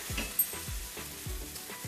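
Water hits a hot pan of ground-meat-stuffed bitter gourd in gravy and sets off a steady close sizzle, with soft knocks and scrapes from stirring recurring every half second or so.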